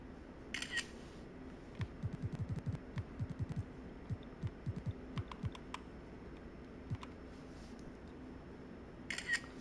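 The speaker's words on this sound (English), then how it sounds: "I don't know if you can hear the phone clicking." A phone gives off a quick run of small dry clicks, clustered and then sparse, under a low steady hum in a quiet room.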